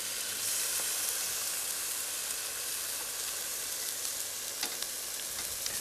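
Garlic, spring onions and ginger frying in a NutriWok, a dense, even hiss of sizzling oil that carries on without a break, with a few faint stirring taps, close and steady, no voices.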